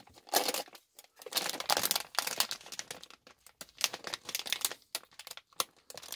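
Crinkling and crackling of a resealable plastic bag being opened by hand, with irregular close bursts of rustle and crisp plastic handling across several seconds, no talking.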